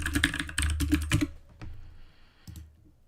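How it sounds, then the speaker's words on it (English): Fast typing on a standard non-Dvorak computer keyboard: a dense burst of clattering keystrokes for over a second, then a pause with a few isolated clicks, close and clear with no voices. "Using my non-Dvorak keyboard, which I know Tinsman would strongly disapprove of."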